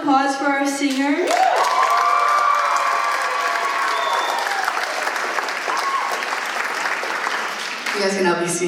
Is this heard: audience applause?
yes